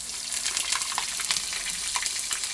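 Fish frying in hot oil produces a steady, close sizzle with bubbling crackles and small pops, alone without voices.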